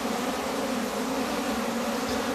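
Honey bees buzz steadily around an orphaned, queenless hive during queen replacement, a dense continuous drone close by with no talk.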